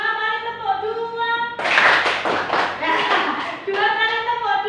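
A group in a classroom claps hands in rhythm, two short pairs of two claps, loud and close, with a voice heard before and after the clapping.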